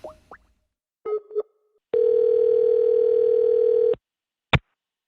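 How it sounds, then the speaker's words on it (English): A telephone dial tone holds for about two seconds as a call is placed, steady and loud. Short clicks and blips come before it, and a sharp click follows. "We're gonna try dialing Connor first, just to see if he answers."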